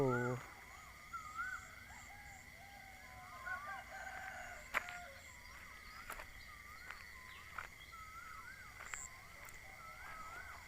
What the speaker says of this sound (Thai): ดูดิเสียงนกเสียงไก่ขันระงมเลยครับผม